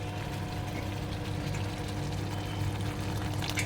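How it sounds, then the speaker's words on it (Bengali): Water pours into a frying pan of spices, oil and potatoes, a quiet continuous splashing hiss over a low steady hum in the background. "একটুখানি এর মধ্যে আমি একটুখানি জল দেব"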